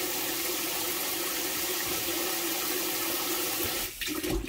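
Water gushes steadily from a tap into a kitchen sink filling with soapy water for dishwashing, a loud, even rushing roar that cuts off abruptly near the end.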